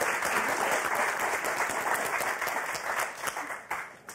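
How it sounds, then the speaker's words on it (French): Studio audience applause on a French television game show, steady clapping from a crowd that holds for a few seconds and then breaks into scattered, separate claps as it fades. "Applaudissements pour Nagia et Richard."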